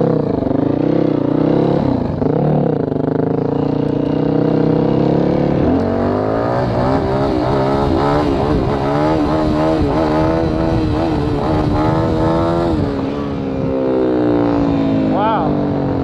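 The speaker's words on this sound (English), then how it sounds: "that was my best wheelie so far" Yamaha WR450F dirt bike engine revving hard during a wheelie, a loud close continuous roar with rising and falling pitch as the throttle is worked, sustained for the whole stretch with a brief dip near the end.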